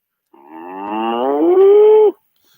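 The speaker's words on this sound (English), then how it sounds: "So, I got a cow now calling." A single long cow moo, loud and close, rises in pitch and holds steady before stopping abruptly, heard alone during a phone-in segment of a morning radio show.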